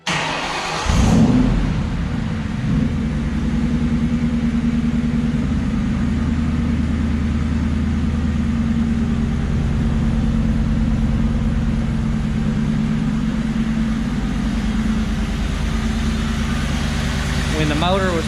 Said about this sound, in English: And now we'll go ahead and get this thing cranked up so you can hear it run.